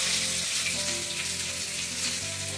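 Chopped onion fries in oil with black cumin, a steady hissing sizzle close to the pan, fairly even in loudness throughout with a faint background hum and no speech.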